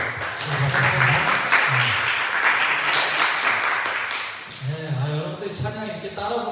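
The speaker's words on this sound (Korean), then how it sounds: "우리 감사의 박수 한번" Applause from a congregation during a Sunday church service at a military unit chapel, sustained dense clapping with a speaking voice and some music running under it, fading slightly near the end.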